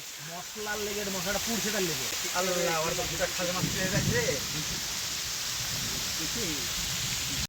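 Steady rain hisses down outdoors during village fishing, a constant wash of sound under a person talking.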